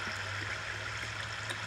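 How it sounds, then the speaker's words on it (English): A flowing water stream in the Minecraft video game gives a soft, steady rushing hiss, quiet and continuous through the brief moment with no other sounds. "Go down the water stream."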